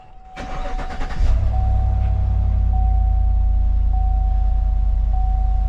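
A 2015–2020 Cadillac Escalade engine cranks briefly, catches and settles into a steady, loud idle hum up close, with a faint repeating chime over it.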